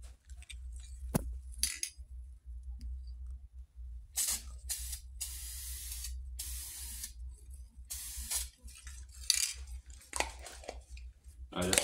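Spray paint is applied to the wheels of a 1:24 scale Chevy Silverado model in several short, close hissing bursts separated by pauses, with faint clinks of the can, and no speech.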